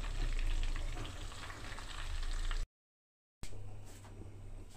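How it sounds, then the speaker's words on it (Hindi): Homemade ghee simmers on a very low flame, giving a steady soft bubbling crackle that runs continuously, broken by a brief silent gap before the gentle sizzle resumes. "मैं इसको बिल्कुल धीमी धीमी आँच पे पकाती हूँ घी को"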